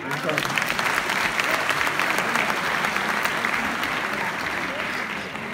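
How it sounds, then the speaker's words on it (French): A crowd at a town's New Year's wishes ceremony in Vias applauds in a steady, dense wash of clapping that holds evenly from start to finish, fairly distant in a large room. "On peut l'applaudir,"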